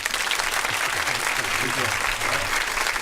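A studio audience at a radio show applauds a guest, a dense sustained wash of clapping with voices talking beneath and through it.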